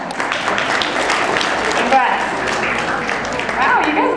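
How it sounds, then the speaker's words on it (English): An audience claps for a man who answered a question correctly, a dense, continuous patter running the whole time while a voice speaks on top. "Give him a round of applause."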